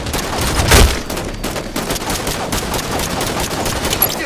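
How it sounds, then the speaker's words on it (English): Rapid, dense gunfire from the Halo 5: Guardians video game on the Empire map, with a heavy shot near the start and continuous crackling fire throughout and no talking. "Sniper rifle's on the field."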